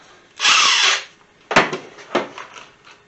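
A power drill drives number 8, 2-inch wood screws. One steady half-second whir is followed by two shorter bursts as the screw seats, loud and close with no talk.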